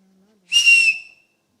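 A whistle is blown once at a hackathon award ceremony, a loud, steady, high-pitched blast lasting about half a second after a moment of quiet.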